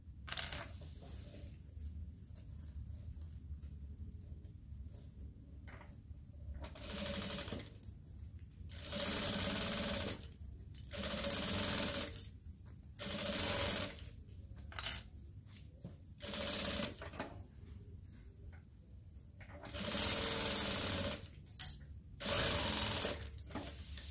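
A domestic sewing machine stitches bias binding onto a zipper edge of a toiletry bag, running in short mechanical bursts with pauses between them over a low background hum.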